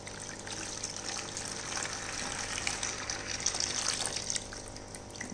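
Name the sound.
pouring aquarium water into bucket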